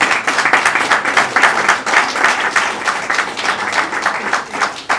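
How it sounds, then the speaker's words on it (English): Dense clapping from an audience at a Nigerian awards ceremony honoring politicians, continuous and fairly loud, with rhythmic surges throughout. "Please, the clapping is not enough."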